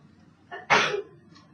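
A single sharp sneeze bursts out after a short quiet intake of breath, close and fairly loud over faint background noise.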